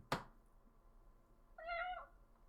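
A cat meows once, clear and close, after an earlier sharp thunk, in a quiet indoor room.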